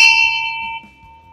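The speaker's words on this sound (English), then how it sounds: "It's the dueling bell." A single bright dueling bell struck at the start of a Yu-Gi-Oh card game episode, loud and close, its clear metallic tone ringing out and slowly fading, with no voices over it.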